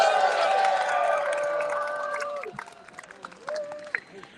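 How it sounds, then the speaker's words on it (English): A crowd at an anti-autocracy street demonstration claps and cheers loudly at first, then the applause thins into scattered claps and voices, with someone talking near the end. "let's give them a big round of applause"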